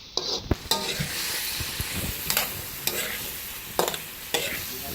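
Chicken adobo frying in a pan as lemongrass goes in, with a steady sizzle and repeated scraping stir strokes, sharp clinks of a utensil against the pan, close and fairly loud.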